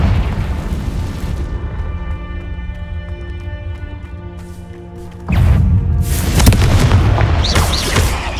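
A deep booming blast from the Confringo spell in Hogwarts Legacy, a fading rumbling tail followed by a second loud, sudden explosion that rolls on with heavy low rumble.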